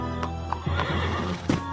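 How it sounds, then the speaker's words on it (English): A horse whinnies amid the clatter of hooves clip-clopping, with a couple of sharp neighs standing out over a steady low background in a colonial-era scene. "James, take care of the horses."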